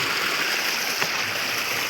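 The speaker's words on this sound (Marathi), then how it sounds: "तुम्ही पाहू शकता हे पूल पण आहे आणि आमच्या गावचा छोटा धबधबा आहे" Shingve's small village waterfall runs under a bridge, giving a soft, steady rushing and burbling of flowing water that continues evenly, with no talking.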